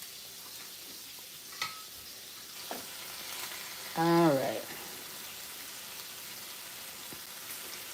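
Shrimp sizzle steadily and fairly quietly in a pan throughout, with a brief louder clatter partway through and a few soft kitchen clicks. Someone speaks a couple of words.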